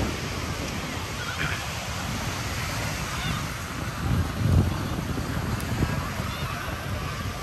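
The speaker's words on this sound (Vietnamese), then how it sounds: "Sóng này nó nhấp nhô cũng khó bơi lắm." Ocean surf on a beach at Nha Trang during a holiday, a steady broad wash of waves with wind buffeting the microphone. Faint crowd sounds sit under it.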